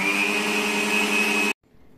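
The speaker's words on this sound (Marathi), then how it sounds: "आता आपण हे सर्व मिक्सर मध्ये वाटून घेऊया" A mixer grinder whirs loudly and steadily while grinding a spice mixture for a Maharashtrian snack, then cuts off abruptly, leaving near silence.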